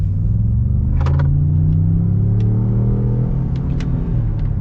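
A 2021 Ford F-150 Lariat Long Bed pickup accelerating in sport mode, heard from inside the cab as a steady, loud low engine rumble that rises in pitch, with a few faint clicks and no talking.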